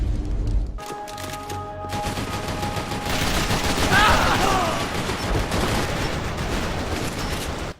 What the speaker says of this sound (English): So really it feels like a bunch of people running around and gunning, shooting each other.